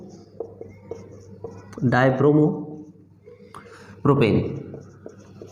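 Chemistry being written on a board during a haloalkanes lesson, with faint scattered taps and scratches of writing sitting beneath steady spoken explanation that carries throughout.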